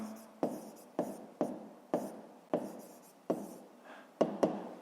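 Numbers written by hand for a fifth-grade maths exercise, a pen tapping and scratching across paper in a steady run of about eight short, close strokes, each beginning sharply and then trailing off, with no talking.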